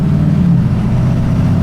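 A 2011 Ford F350 with a replaced 6.7 Powerstroke diesel engine accelerates on its first drive, giving a steady loud low engine drone heard from inside the cab with no talk over it.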